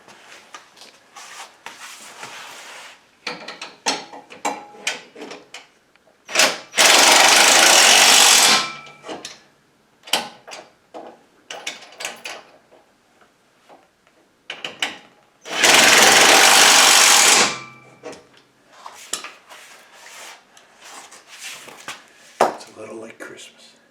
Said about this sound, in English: tighten up those very first two original bolts on the brackets going to the frame